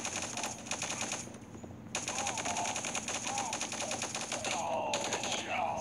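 Rapid automatic gunfire in the shooter game Guns of Boom rattles in long continuous bursts with brief gaps, steady and fairly loud.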